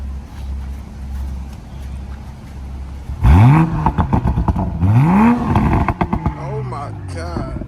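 A Toyota Supra's engine is revved hard twice in a row, each blip rising sharply in pitch and falling back, following a few seconds of low idle, with excited voices reacting nearby.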